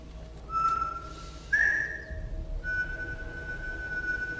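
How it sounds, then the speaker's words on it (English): A man whistles a few sustained tones alone, a short clear note followed by a slightly higher one and then a longer held note, moderately near over a faint low background hum. "It's all he does is whistle."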